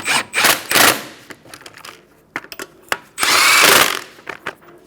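A power tool, probably a cordless drill or impact driver, tightens the wheel lug nuts on a 2014-2019 Kia Soul in a star pattern. It gives two loud, close bursts of whirring separated by short clicks and clanks of handling.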